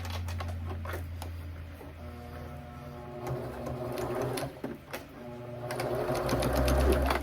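A sewing machine stitches a drawstring backpack, its motor running in steady bursts with a fast needle chatter, close and continuous with brief pauses and changes in speed.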